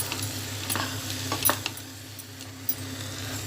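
Masala and vegetables get stirred in a pan, a spoon scraping and tapping in a few sharp clicks over a soft steady sizzle and low hum.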